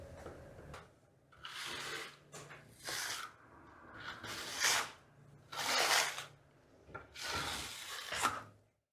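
A trowel smooths the first coat of Vasari Marmorino plaster with repeated soft scraping and swishing strokes, close and fairly quiet, in an uneven rhythm of about seven passes.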